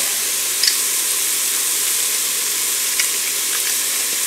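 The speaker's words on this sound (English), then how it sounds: "Once the onions are frying a little bit, I'll go ahead and put the garlic in" Steady, close sizzling of onions and minced garlic frying in a hot pan, a constant crackling hiss with occasional brief pops, no voices.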